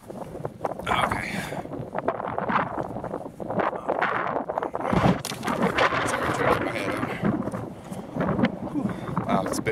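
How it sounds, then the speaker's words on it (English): Strong wind buffets the microphone at an outdoor building site where footings are being laid out for an Earthship home, a steady roaring gust throughout with talk mixed in. "Wow, it's a bit windy."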